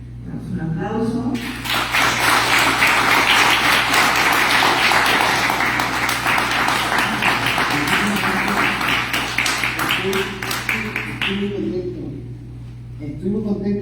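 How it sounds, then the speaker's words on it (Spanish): Applause from an academic panel audience for a speaker: broadband clapping rises sharply after a moment of talk, holds strong for about ten seconds, then fades as a voice resumes. "Damos un aplauso."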